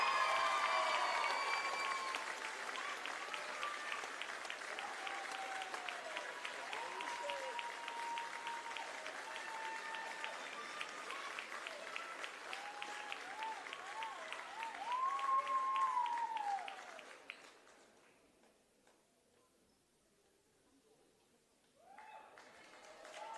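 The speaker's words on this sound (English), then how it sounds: "round of applause" Crowd applause at an Eltham Wildcats versus Knox basketball game, steady clapping for about seventeen seconds with voices over it, then fading to near quiet before a voice returns.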